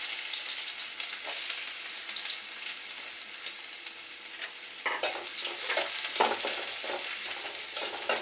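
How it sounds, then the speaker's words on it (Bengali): Chopped garlic fries in hot white oil with a dense, crackling sizzle throughout. It grows busier and more spattery partway through, mixed with light stirring, and no voices are heard. "তেলটা গরম হয়ে গেছে। এটা কিন্তু সাদা তেল দিয়ে করতে হবে, সাদা তেল না থাকলে ওটা ঘি দিয়ে করতে হবে। আর রসুন কুচিগুলো দিয়ে দিচ্ছি।"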